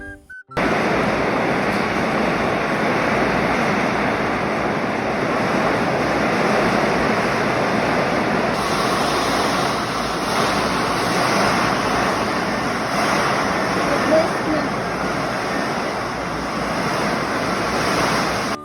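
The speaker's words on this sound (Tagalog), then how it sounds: "bumuhos na ang malakas na ulan at malakas na hangin." Heavy rain and strong wind make a loud, dense, steady roar of downpour and gusts that fills the whole stretch. The roar swells slightly partway through, and no one speaks.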